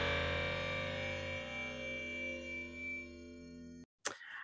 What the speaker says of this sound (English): So after it was trained on guitar and organ, it generated a sound like this.